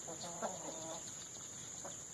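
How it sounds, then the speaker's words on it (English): Backyard chickens in a pen cluck softly in a few short bursts over a steady high-pitched insect-like hiss, with no talking. "the chickens are still very happy about the whole situation"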